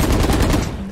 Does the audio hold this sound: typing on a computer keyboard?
no